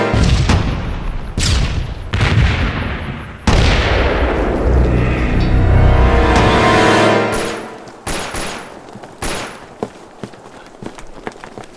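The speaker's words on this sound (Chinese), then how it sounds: "好像是手榴弹爆炸，枪声也是那边传来的" A Battle of Shanghai war film: gunfire and grenade blasts sound from a Japanese army barracks. Sharp shots crack, then a long rumbling explosion swells and fades, followed by scattered, fainter pops.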